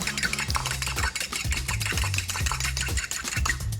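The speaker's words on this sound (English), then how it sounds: "Give that a little whisk." Egg whisked into sieved ricotta and flour in a bowl, a steady run of quick scraping strokes about every half second, close and fairly loud, with light clinks of the whisk against the bowl.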